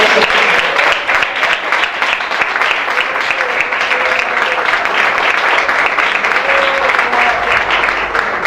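A church congregation claps steadily during a worship service, a full, continuous patter of many hands at close range with faint voices mixed underneath.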